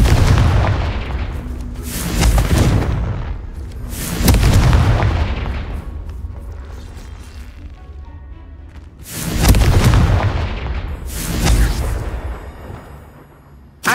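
Confringo fire spells from Hogwarts Legacy burst in four heavy booming explosions, spaced a few seconds apart, each with a rumbling tail. The blasts are loud and close.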